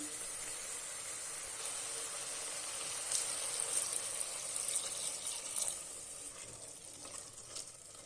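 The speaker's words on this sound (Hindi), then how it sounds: "अब हम इसमें डालेंगे 1 गिलास पानी" Steady hissing and sizzling as a glass of water is poured into a hot pan of fried black chickpeas and spices, a bright crackle swelling in the middle before settling into a softer simmer.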